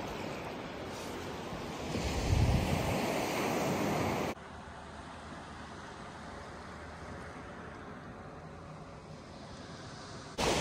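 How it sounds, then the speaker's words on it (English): Ocean waves surge at the Bay of Fundy as the tide comes in, a loud broad wash building and peaking early, then a steadier, softer surf mixed with wind rumbling on the microphone. "The waves are getting a bit bigger, which means the tide's starting to come up."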